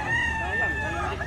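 A rooster crows at a chicken market, with one sustained, fairly close crow running through the short moment and a faint voice underneath.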